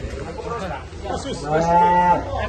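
Large cattle being unloaded at a livestock jumping show, one cow giving a long, loud, close moo that rises and holds, with crowd chatter underneath.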